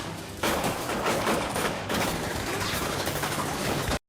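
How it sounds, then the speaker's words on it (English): Dense gunfire in an action film scene, a relentless barrage of shots layered into a loud continuous roar that cuts off abruptly at the end. "an endless barrage of bullets"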